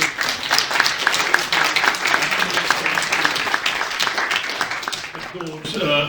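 An audience applauds a panel at an academic event on Baltic-Ukrainian relations, with dense, steady clapping throughout and speech running under it, easing slightly near the end.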